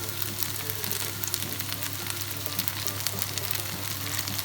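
Mushrooms and gnocchi fry in a buttery pan, a steady, close sizzle and crackle that holds evenly throughout with no talking.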